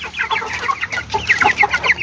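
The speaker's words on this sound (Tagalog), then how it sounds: "Ito yung mga sisiw natin o mga kalitol, yan." Five young chicks of a broody hen cheep close by in a quick, overlapping run of high, thin peeps with no break.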